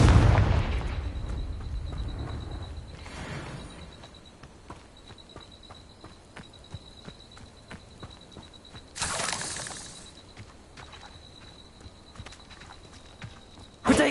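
Confringo spell explosions in Hogwarts Legacy, a booming blast at the start and another crackling burst midway, with a steady high tone and scattered clicks between, no voices.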